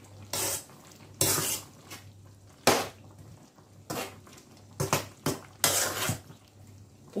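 Meat and spices are stirred by hand in a dry pot with no water added, giving a run of loud scraping and clattering bursts, each lasting about a second, with short quiet gaps between them.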